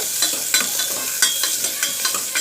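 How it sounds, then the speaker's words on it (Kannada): Onions and curry leaves fry in hot oil for a village-style greens sambar, giving a steady close sizzle broken by several sharp stirring scrapes at an uneven rhythm, with no talking. "ಈ ಥರ ಎಣ್ಣೆದಲ್ಲಿ ಫ್ರೈ ಮಾಡ್ಕೊಳ್ಳೋಣ"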